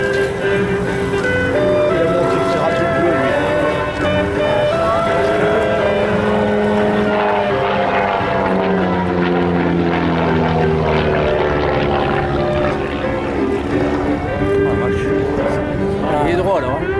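A Pitts-type F-PITS Optima aerobatic propeller plane flies an inverted roll at an air show in Margny, its engine drone rising and falling steadily throughout, with a commentator talking over it.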